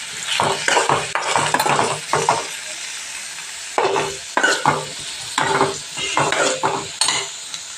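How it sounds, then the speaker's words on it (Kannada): Onions frying with curry leaves and cumin in a pan, loud close sizzling broken by repeated bursts of stirring and spatula scraping in an uneven rhythm. "ಉಳ್ಳಾಗಡ್ಡಿ ಒಂದು ಸ್ವಲ್ಪ ಫ್ರೈ ಸ್ನೇಹಿತರೆ"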